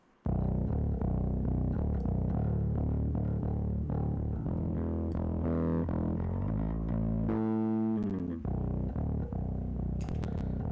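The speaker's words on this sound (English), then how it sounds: "make that low frequency pop out a little bit, right, and to make that a little bit distorted" Low, saturated bass notes with a gritty, slightly distorted edge play in a steady melodic line, followed by a rising synth sweep near the end, with no talking.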